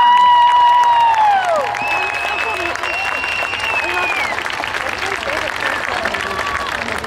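Crowd applause at an outdoor women's rally and march in Denver, a broad sustained clapping that stays strong throughout, with whistle-like tones and a few voices mixed in near the start.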